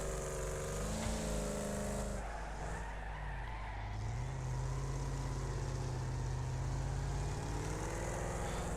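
Race cars in a Wreckfest online race, a continuous loud engine roar with revving and shifting pitch, tyre skids and a sudden change in the middle, busy and close with no talk.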